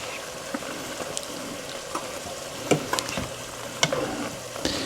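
Tortellini in a pot on an electric range, bubbling at a rolling boil with a steady wet hiss and scattered pops and clinks of stirring, moderately close and with no voices.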